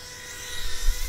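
A micro racing drone flying nearby with a high, whining propeller buzz that grows louder and fluttery toward the end, as if it is moving closer or dropping.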